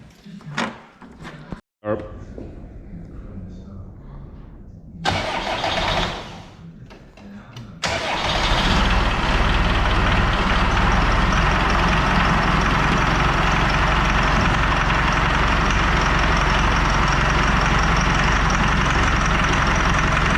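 A Land Rover campervan engine cranks with a few clunks and stutters, catches and fires up, then settles into a loud, steady rough idle; people speak briefly over the early part.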